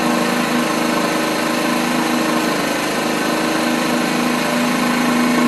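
A moped's small engine idles steadily at operating temperature, a close, even buzzing drone with a constant mechanical rattle and no speech over it.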